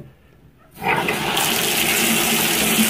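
Water rushes on through a repaired Kohler shower valve after a near-silent start, bursting into a loud steady hiss and roar that continues without talk.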